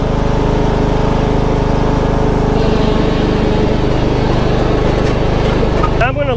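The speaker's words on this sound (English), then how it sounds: "I love this lawnmower. It sure has been a great running machine." A lawn mower engine drones steadily and loudly nearby, a constant mechanical rumble with a voice briefly audible over it.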